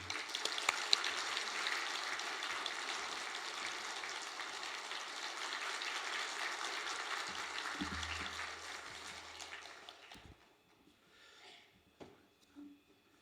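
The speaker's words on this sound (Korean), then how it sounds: "우리 감사와 환영의 박수 하도록 하겠습니다" Steady applause from a church congregation welcoming a pastor fills the first ten seconds, then fades out into near quiet with a few faint knocks.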